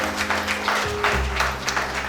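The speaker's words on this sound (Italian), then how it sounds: "Facciamo un applauso alla signora" Audience applause at a ceremony where a woman is called onstage to be honoured, a short loud burst of clapping with some low hum and indistinct voices underneath.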